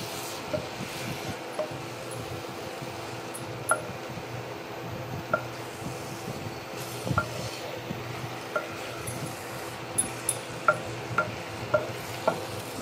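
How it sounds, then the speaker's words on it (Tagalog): Miki bihon noodles are stirred and fried in a pan over medium heat, with a soft sizzle underneath and a series of light utensil clicks and scrapes against the pan, with no talk. "Halo lang po tayo ng konti."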